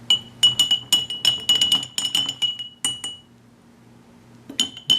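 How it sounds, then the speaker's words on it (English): A glass stirring rod clinks repeatedly against a drinking glass during a CBD product solubility test, bright ringing taps in quick bursts, then a pause of near silence before a final few clinks. "Stirring rod."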